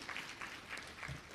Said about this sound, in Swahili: Naomba tumshukuru kwa makofi kwa huduma hii nzuri